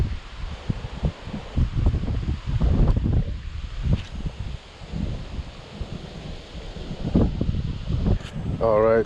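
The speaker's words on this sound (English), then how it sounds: "Real windy out here today." Strong wind buffets a microphone in rough, uneven gusts, with rustling underneath, loud and close throughout.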